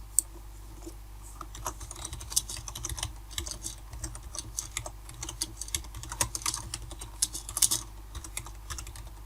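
Someone types on a computer keyboard in a quiet room, producing a steady, uneven patter of light key clicks with occasional sharper taps and no voices.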